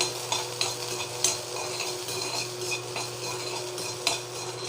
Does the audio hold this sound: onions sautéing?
yes